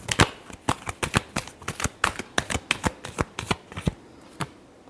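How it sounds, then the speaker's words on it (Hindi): Tarot cards are shuffled in quick bursts, a rapid run of crisp riffling flicks and taps repeating in an uneven rhythm, close and clear with no talking over them. "last shuffle,"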